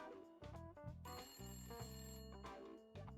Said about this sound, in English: Hey up, that's the phone.